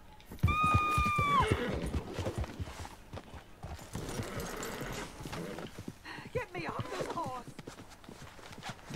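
A horse in Red Dead Redemption 2 lets out a clear whinny at the start, then hooves clatter in quick uneven beats amid game sounds, with someone talking excitedly throughout.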